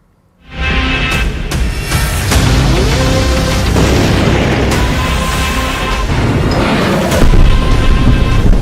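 A missile launch at a firing site: a sudden loud blast sets off a sustained, heavy roar that keeps rumbling, punctuated by several sharp cracks and bursts.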